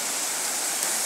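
A river flows with a constant, dense rush of water, steady and fairly close, with no voices.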